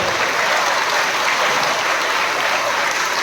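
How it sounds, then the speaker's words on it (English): Sustained applause from schoolchildren and staff honoring teachers at a Guru Purnima celebration in a primary school, a steady dense clapping that fills the whole stretch with no voices over it. "So give a big round of applause to all the dear teachers."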